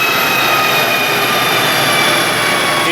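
A Stage 2 MK6 Volkswagen GTI roars at sustained high revs on a dyno, a loud, steady, broadband engine and exhaust drone holding constant throughout without a break.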